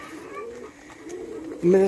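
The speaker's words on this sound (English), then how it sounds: "Pigeons love taking a bath." Pigeons cooing during extreme summer heat while bathing in a water bath, producing a low, soft coo that rises clearly near the end over faint background noise.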